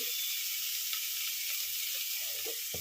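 Onions sizzle steadily in hot oil in a pan while being stirred for a chicken stew, a close, continuous bright frying hiss with a few soft scrapes of the spoon and no voices.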